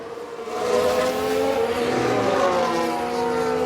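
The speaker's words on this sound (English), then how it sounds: "Oh, a nasty crash there." A Formula 1 car in the F1 Manager 2022 racing game roars at steady high revs through a crash replay, its engine note loud and continuous with a slight pitch drift and no voices.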